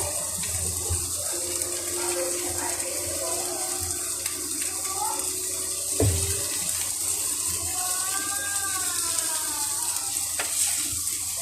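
Mixed vegetables sizzle and hiss steadily in a frying pan, with occasional stirring clanks and a person talking over the cooking.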